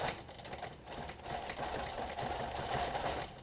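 A longarm quilting sewing machine stitches steadily near an appliqué, a fast continuous mechanical chatter with soft rhythmic clicks, close and unbroken.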